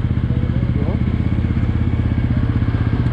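A motorcycle engine runs steadily with a low, throbbing pulse throughout, close and fairly loud, with a voice talking over it.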